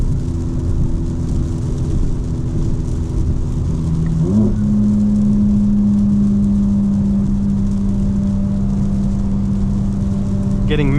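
Engine of a 2025 BMW M4 Competition xDrive on a rain-soaked track, holding a steady mid-pitched drone just after an upshift into fifth gear, with a brief pitch dip at the shift and constant road and rain noise underneath.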